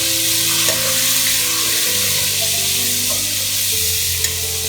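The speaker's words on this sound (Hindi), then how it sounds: "ये इसमें मैं टमाटर ऐड कर देती हूँ।" Tomatoes fry in a pan for mash daal, giving a steady close sizzle and crackle that runs without a break, with no voices over it.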